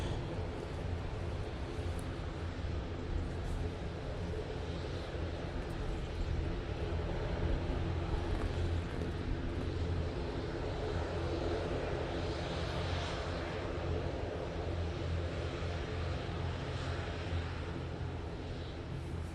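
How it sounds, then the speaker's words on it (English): A Ryanair airliner at Manchester Airport roars through its takeoff run, a steady, loud, broadband jet-engine rumble that holds for the full stretch with no talk over it. "Ryanair lined up, ready to go."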